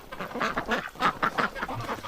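Ducks on a winter outing quacking in a quick run of close, repeated calls, several overlapping honky quacks in an uneven rhythm.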